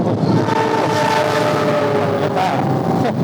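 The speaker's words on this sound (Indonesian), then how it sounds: "kebetulan ada kereta nih" A passing train near Solorejo on the route from Blitar toward Malang, a loud continuous rumble of rolling cars with a sustained horn blaring through it.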